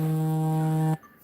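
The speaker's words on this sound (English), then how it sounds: "That's my alarm going off." A household alarm sounds as one steady, loud electronic buzz with a rich harmonic tone, holding for about a second before cutting off abruptly into quiet room noise.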